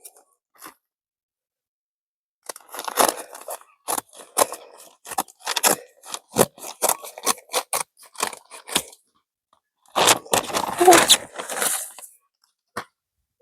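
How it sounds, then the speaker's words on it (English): Scissors cutting open the package of crab apple tree seedlings from a state nursery, heard as close, crisp snips and crinkling plastic in uneven bursts separated by silent pauses. "Just got to cut the package open."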